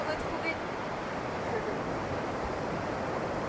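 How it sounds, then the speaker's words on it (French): Ocean waves wash steadily onto a beach, a continuous broadband rush with light wind and no distinct breaks, heard close and fairly even throughout. "j'espère que vous entendez bien le bruit des vagues"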